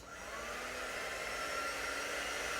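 A hair dryer blows steadily and close, a constant airy whoosh with a faint whine that starts up and holds at full strength.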